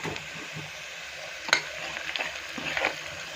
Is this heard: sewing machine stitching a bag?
no